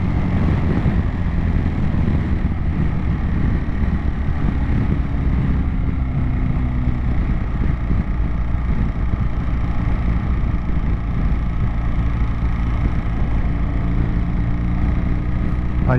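Motorcycle engine under opened throttle while overtaking on a rural New Forest road, a steady loud low drone with heavy wind rush throughout, close and continuous.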